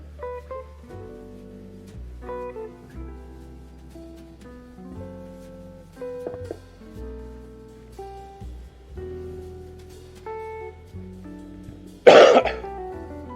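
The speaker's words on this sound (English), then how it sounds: "Excuse my cough, I apologize for that." A single sharp cough bursts out near the end, loud and close, over quiet background sounds and soft tones.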